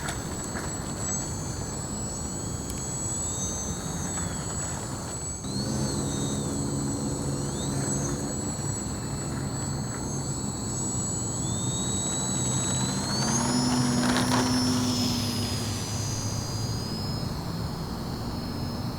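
Steady high whine of a small H-King Savage Bobber Compact STOL model airplane engine overhead during a slipping landing approach, continuous throughout, with a lower buzzing note joining midway and swelling louder toward the end.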